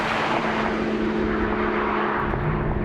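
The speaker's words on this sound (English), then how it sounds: "this is the classic Porsche naturally aspirated engine" The naturally aspirated engine of a Porsche 911 Carrera 4S (991) pulls hard with a dense, steady roar and a sustained tone, loud and close throughout with no talking.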